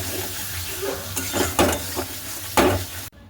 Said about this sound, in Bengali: শাকটা দিয়ে দেবো এটা একটু ভাজা হোক